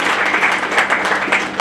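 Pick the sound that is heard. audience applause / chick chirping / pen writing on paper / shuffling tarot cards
audience applause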